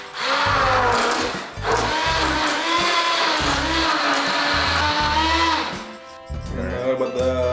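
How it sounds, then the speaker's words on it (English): A handheld stick mixer whirs loudly and continuously as it whips a coconut ice cream mixture, its motor pitch wavering as it works, with a brief dip near the end before resuming. "use a mixer, either a mixer for a cake or one of these handy dandy staff mixers"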